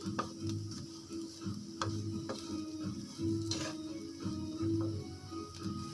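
Sandwich vegetable filling being mixed with salt in a bowl, a steady scraping and stirring texture with light clicks and taps, close and moderately loud, no talking.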